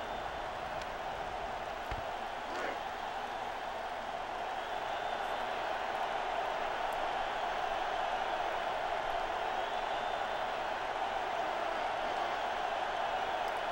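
Crowd noise from the NCAA Football 2004 video game forms a steady, dense roar of a stadium audience that swells slightly partway through and continues without voices over it.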